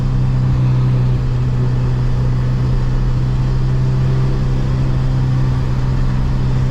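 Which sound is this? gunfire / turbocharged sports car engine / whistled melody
turbocharged sports car engine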